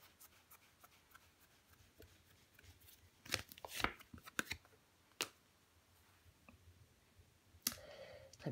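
Tarot cards laid down and covered on a table, heard as faint, scattered taps and soft clicks that bunch into a quick flurry midway, with near-silence between.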